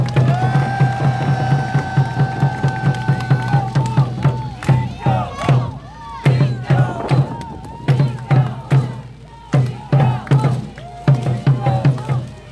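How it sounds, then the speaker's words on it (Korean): Rhythmic crowd clapping and chanting at an outdoor political rally in a public plaza, loud and close, with repeated unison beats and a voice carrying over the crowd. "다시 한번 큰 박수 부탁드립니다"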